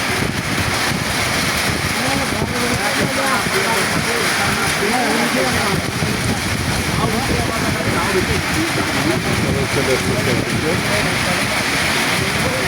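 Rain falling with a light wind over a remote river char settlement, a loud, dense, unbroken roar of noise that holds steady throughout, with gusts buffeting close by.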